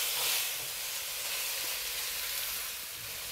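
Pork ribs stirred in a pan with fermented broad bean paste give a steady, close hiss of sizzling that persists throughout, with no voices.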